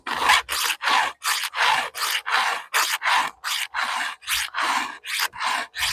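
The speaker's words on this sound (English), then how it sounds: "I'm just freshening them up now and filing out the gullet and the side cutter." A hand file sharpens the teeth of a chainsaw rip milling chain, filing the gullet and side cutter in about fifteen rhythmic close rasping strokes, each a short harsh scrape with brief pauses between.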